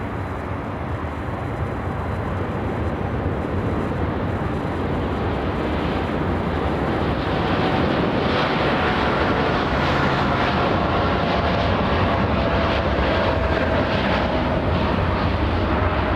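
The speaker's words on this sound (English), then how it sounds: "So this one's going to throttle up and" Jet airliner throttling up and taking off from a runway at LAX, a loud continuous roar of engines building steadily over about sixteen seconds from the airport surroundings, with no talk.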